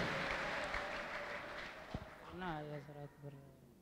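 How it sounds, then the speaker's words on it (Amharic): A church congregation claps together in a soft, sustained round of applause heard from a distance, fading as a voice starts speaking over the final seconds. "አጨብጭቡላቸው ለነኚህ ወንድሞችና እህቶች።"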